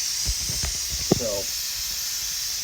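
Agar heating up on a stove gives a steady, broad hiss throughout, with a few brief clicks and a short low tonal burst near the middle.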